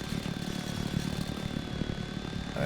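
A Heinkel He 51 biplane's piston engine drones steadily in flight in the video game Main Assembly, a continuous rumbling propeller hum with a faint whine above it, even and alone throughout.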